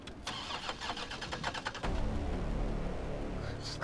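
A car engine in the Resident Evil 3 Remake video game cranks and catches, then settles into a loud, steady idle rumble, with shuffling game noise before it.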